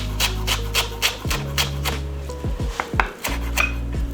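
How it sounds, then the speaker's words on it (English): A knife chops parsley on a cutting board in a quick run of close, crisp taps at a steady rhythm. A low hum fills the background, and a few scraping sounds break the chopping. "I will get about 1/4 of the cup of parsley and just chop it up"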